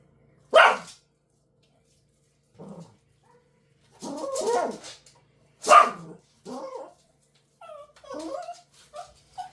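A household dog barks in a home setting, several sharp close barks spread irregularly, mixed with shorter yips and whimpering sounds between them, loud against an otherwise quiet room.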